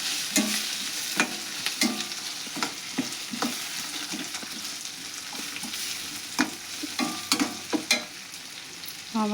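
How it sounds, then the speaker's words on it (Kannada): Chopped tomatoes fry in oil for a chutney served with dosa, giving a soft, continuous sizzle with repeated light scrapes and taps of a stirring spoon against the pan, and nobody speaking. "ಟೊಮೆಟೊ ಹಾಕ್ಕೊಂಡು ಎಣ್ಣೆ ಒಳಗೆ ಫ್ರೈ ಮಾಡೋಣ್ರಿ."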